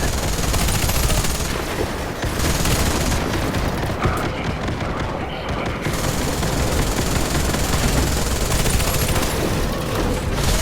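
Dense, continuous machine gun fire from the Mammoth turret in the Warface video game, rapid bursts layered with booming impacts, loud and close for the whole stretch with no voices.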